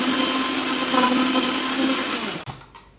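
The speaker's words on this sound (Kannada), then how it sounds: "ಫುಲ್ ಸಣ್ಣಾಗಿ ಗ್ರೈಂಡ್ ಮಾಡ್ಬೇಕು." A kitchen mixer grinder whirs loudly and steadily as it grinds green chillies, coriander and garlic for vada pav. The motor runs alone, with no talk, for about two and a half seconds, then cuts off abruptly and the sound fades into a brief rattle.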